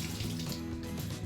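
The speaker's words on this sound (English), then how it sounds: "I'll rinse the brush just under some running water" Tap water runs steadily over a small eyelash extension cleaning brush being rinsed at a sink, a close, continuous splashing stream with no talking.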